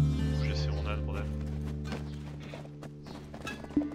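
A donkey mount walks in the video game Black Desert, its hooves clip-clopping in a steady rhythm under speech and a continuous low game hum.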